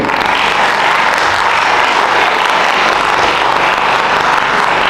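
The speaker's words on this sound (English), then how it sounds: "A round of applause for the diligent IT team" Steady, loud applause from a crowd at a conference, a dense continuous wash of clapping with no pauses or voices.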